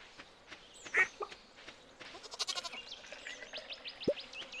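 Farm animals in the Stardew Valley video game bleat in short game-sound calls, goat and sheep cries along with a quack-like call, over a quiet bed of game music.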